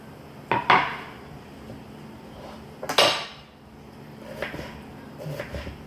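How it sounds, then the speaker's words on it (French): Vegetables and eggplant go into a frying pan with a few sharp clanks of utensil on metal and a soft tumbling, close and separated by quiet pauses. "Je vais l'ajouter avec mon aubergine dans la poêle."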